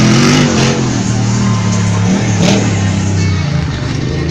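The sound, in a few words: Jeep Wrangler engine revving at monster truck race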